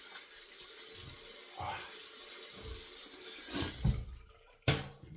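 Tap water runs in short bursts into a sink for rinsing after shaving, soft and close, with light splashes and a louder gush near the end.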